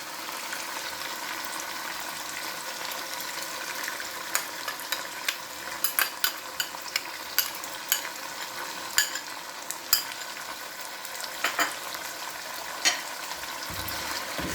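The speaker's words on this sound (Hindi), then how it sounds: "मैं इसको फ्राई कर लूँ दही के साथ।" Mutton trotters cooking with yogurt sizzle and fry steadily in a pan, a dense hiss broken by repeated scraping stirs and light utensil clinks, close and continuous with no talking.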